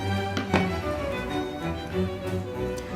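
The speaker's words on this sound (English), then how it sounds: "come over to this side and just start cutting thin little slices like this" A knife slices a New York strip steak into thin strips on a cutting board, giving a few soft taps and chops over a low steady kitchen hum, close and fairly quiet.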